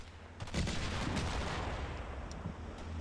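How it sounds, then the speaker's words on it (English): Heavy 30mm cannon fire in a war video game comes as a dense, rumbling burst of booming shots that rolls into a sustained low roar, fairly loud, with no talking. "That was some 30mm cannon fire fired from the back at the end of last turn"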